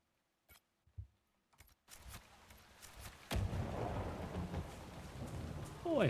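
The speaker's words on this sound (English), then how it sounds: "Boy howdy, that's a lot of lightning around. Real close." Rain and rumbling thunder from a storm in the Dragon Age: Inquisition video game, opening with sparse knocks, then a steady rain wash with a nearby thunderclap swelling louder toward the end.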